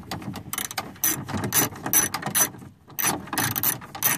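Ratcheting wrench tightening 10 mm bolts on a 1996 Toyota Camry driver door, heard as quick bursts of clicking pawl strokes in an uneven rhythm with short pauses, close up and moderately loud.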